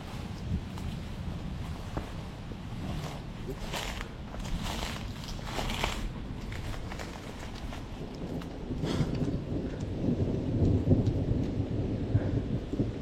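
Thunderstorm during trout fishing: steady hiss of rain with deep rolling thunder rumbles that swell and build louder toward the end, with no voices.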